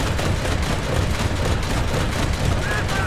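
Anti-aircraft cannons on a Flakpanzer 341 in War Thunder realistic battles fire in a dense, rapid burst, a loud continuous rattle of shots with a faint voice underneath.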